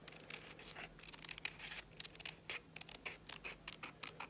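Scissors snip steadily through coffee filter paper while a poinsettia petal is trimmed, a close, soft run of papery cuts with no talking.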